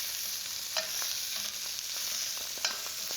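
German sausages brown in a hot pan, giving a steady close hiss of sizzling fat with a couple of brief scraping stirs, no voices.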